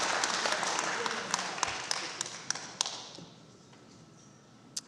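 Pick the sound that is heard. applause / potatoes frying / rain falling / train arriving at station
applause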